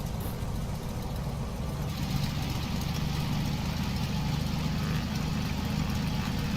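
Aircraft engine in the Carenado WYMF5 flight simulator game held at takeoff throttle, a steady loud drone with a low hum running unbroken and no voices.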